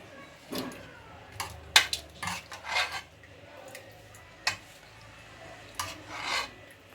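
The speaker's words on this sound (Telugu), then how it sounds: "ఒక గిన్నెలోకి అయితే తీసి చూపిస్తున్నాను నేను." Mutton curry scooped from the pot into a bowl with a ladle: a series of close, uneven metallic scrapes and clinks against the vessel, with short pauses between them and no talking.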